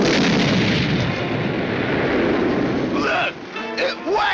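A cartoon torpedo launches on land with a loud, sustained roaring blast that fills the first few seconds, then fades as voices briefly speak.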